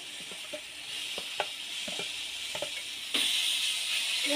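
Eggplant and potatoes fry in a pan for an egg curry, giving a continuous close sizzle punctuated by several light stirring knocks, and the hiss swells louder near the end. No one speaks.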